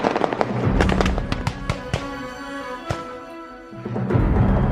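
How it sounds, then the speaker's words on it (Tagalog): A rapid series of gunshot sound effects in a Filipino horror audio drama, sharp loud cracks in an irregular volley with echoing tails over a low rumbling background, without talk. "muling makarinig ng magkakasunod na putok ng baril"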